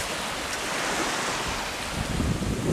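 Steady roar of sea waves washing and breaking around a small island off Camiguin, with wind rushing across the microphone throughout.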